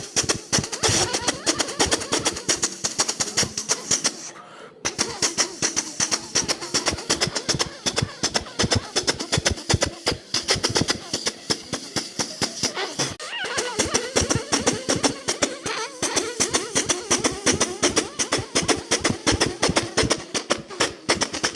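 A voice imitates the sound heard inside the Ooty mountain train, a dense, continuous rhythmic rattling and chugging with rapid clicking pulses, loud and close, running nearly without pause apart from one brief break.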